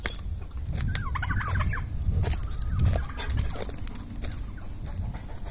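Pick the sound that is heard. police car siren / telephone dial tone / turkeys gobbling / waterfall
turkeys gobbling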